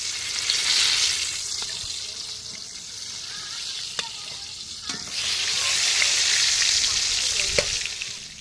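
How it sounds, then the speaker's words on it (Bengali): Eggplant slices frying in a pan at an outdoor village winter picnic: a steady, bright sizzle that swells and eases, broken by a few sharp clicks of a utensil against the pan, close and fairly loud. "এবার কিন্তু বসাবো বেগুন ভাজা"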